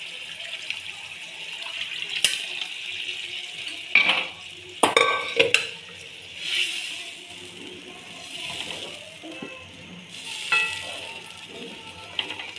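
Water goes into street-style pav bhaji in a pan and is worked in by hand, giving wet splashing and sizzling with several sharp scrapes and clanks of the spatula, close and fairly loud.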